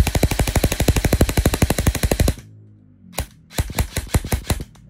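An E&C G28 airsoft rifle with reinforced internals fires on full auto, a loud, fast string of sharp mechanical cracks for over two seconds, then after a pause several shorter bursts ring out up close.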